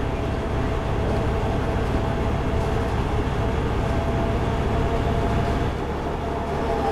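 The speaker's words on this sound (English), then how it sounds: "There's a tram coming the other way!" A tram passes on a Vienna street in the bus simulator game OMSI 2, heard as a loud, steady rumbling drone that holds at an even level throughout, with no speech over it.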